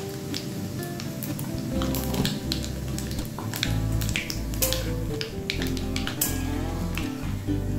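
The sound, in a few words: black cumin (nigella seeds) sizzling in hot oil for lemon pickle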